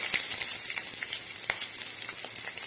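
Red chilies and shallots sizzle in hot oil for a peppery rasam, a steady, fairly loud hiss dotted with small pops and crackles.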